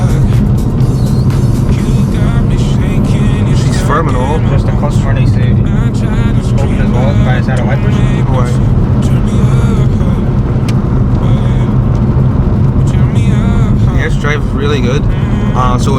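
A BMW E46 fitted with BC coilovers is out on a test drive, heard from inside as a loud, steady engine and road drone with continuous tyre rumble throughout.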